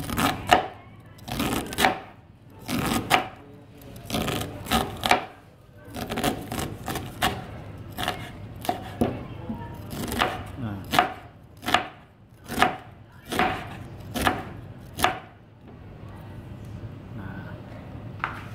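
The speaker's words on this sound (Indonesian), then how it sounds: "kita serut aja jagungnya" A knife shaves kernels off a cob of sweet corn in a long run of crisp, rhythmic strokes, each a sharp rasping scrape about a second apart, close and clear with no talking.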